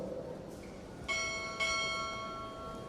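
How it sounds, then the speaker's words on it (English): A ship's bell rings out two distinct strikes during a navy chief petty officer pinning ceremony, the tones sustaining and overlapping slightly as they fade against quiet background hall noise. "Time order, strike, 2 bells."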